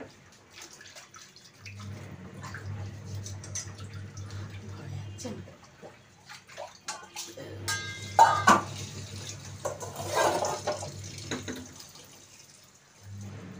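Tap water runs in bursts while a whole rohu fish is rinsed, with splashing and dripping close by and a low hum underneath.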